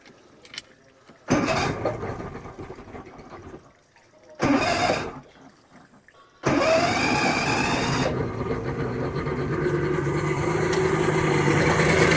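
A 1986 Mercury 90hp outboard motor starts with its exhaust submerged and runs with a muffled, churning drone, broken by brief bursts before settling into a continuous, fairly loud hum.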